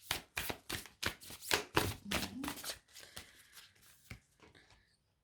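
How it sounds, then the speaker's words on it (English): Tarot cards shuffled by hand in a rapid series of crisp riffling bursts, loud at first, then thinning into softer, sparser card slaps and slides near the close. "I'm just going to shuffle the cards and get some more advice"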